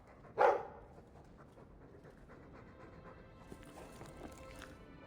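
A Mabari war dog in Dragon Age 2 pants close by, opening with a sharp loud breath or huff, then settling into steady, quieter panting over a faint background bed.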